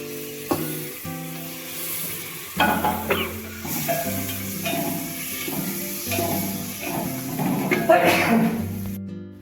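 Masala with tomatoes sizzling and frying steadily in a pan, with stirring scrapes and clinks over the hiss and a person speaking throughout.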